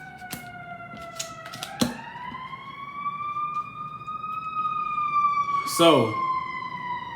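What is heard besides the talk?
sirens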